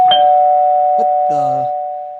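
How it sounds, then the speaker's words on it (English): A doorbell chimes twice, close and clear, the ringing tone sustaining steadily and fading slowly afterward. "that the doorbell?"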